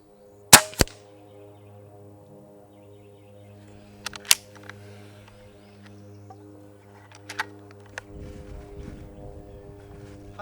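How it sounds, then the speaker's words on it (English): A Hatsan Flash QE .25 air rifle with its Quiet Energy suppression fires several times, each shot a soft, sharp crack, spaced seconds apart over a low steady hum. "Hatsan's Quiet Energy system has always done a very good job of keeping sound down, and I'm happy to report that the Flash 2 is very quiet."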